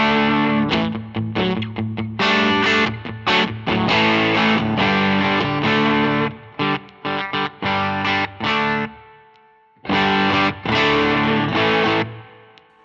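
Electric guitar with single-coil pickups through a Way Huge Red Llama overdrive pedal set for a rhythm push tone plays crunchy, choppy chords in bursts with short gaps and a brief pause near the end. It is loud and alone.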